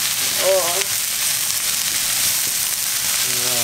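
Cauliflower fried rice sizzles and fries steadily in a pan, a constant close hiss with brief voices murmuring at moments.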